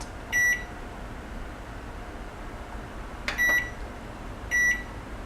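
A microwave oven gives three short electronic beeps spaced across a few seconds, each a clear tone over a steady low hum in a quiet kitchen.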